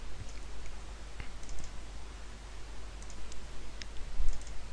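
Computer mouse clicks sound while text is formatted, scattered faint ticks over a steady low hum.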